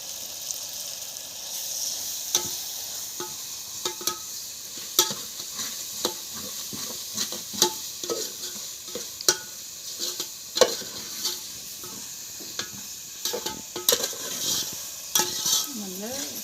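Chilli, garlic, coriander and ginger paste sizzles steadily in a pan over a wood-fired stove, with repeated stirring scrapes and light clinks of a spoon against the metal, close and continuous with no talking.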